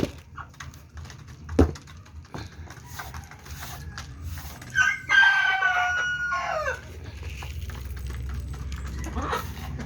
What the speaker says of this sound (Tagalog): yung aking mga alagang manok